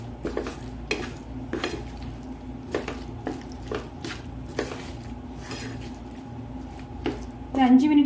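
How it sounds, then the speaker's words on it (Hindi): Gooseberry pickle is stirred in a pan, repeated scraping and knocking of a spoon against metal with soft wet squishes, close and moderately loud, ending with a brief louder clatter. "നമുക്ക് ഇന്ന് ഇളക്കി എടുക്കാം"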